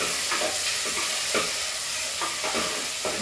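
Onions frying in a pan for a snake gourd curry with fenugreek, garlic and green chilli, a steady close sizzle with a few soft stirring scrapes, no voices.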